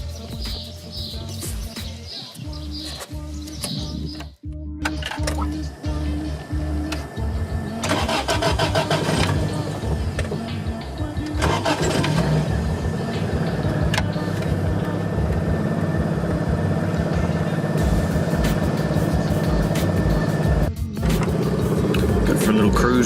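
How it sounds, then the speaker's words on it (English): A Toyota AE86 with a six-speed gearbox cranks, fires and revs, then keeps running loudly and steadily as it drives off, close by. "For a little cruise in the 86 with a 6-speed."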